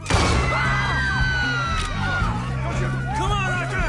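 Gunfire in Red Dead Redemption 2, a sharp bang at the start, then ringing, echoing tones beneath loud shouting voices and game noise.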